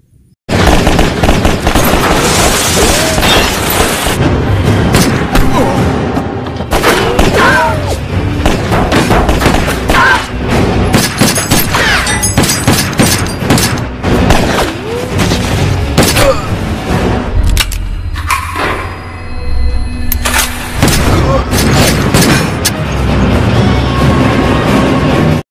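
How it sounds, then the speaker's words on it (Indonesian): In a crime-thriller film scene, a sabotaged car explodes and tattooed attackers open fire, with loud rapid bursts of gunfire and heavy booms repeating across the scene, a brief lull near the end, and voices mixed in. "mobilnya pun meledak yang sepertinya sudah disabotase oleh si pelaku"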